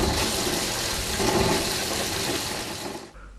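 A pan-style toilet connected to a septic tank flushes with a loud, continuous rush of water that holds steady for about three seconds, then cuts off abruptly, leaving quiet.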